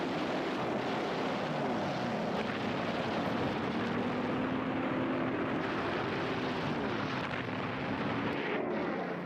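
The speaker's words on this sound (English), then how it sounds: "which now launches its planes in successive waves in search of Japanese ships" Propeller warplanes of the WWII Battle of Midway roar overhead in a dense, loud, continuous drone, with engine tones droning steadily and a rumbling, explosive wash beneath.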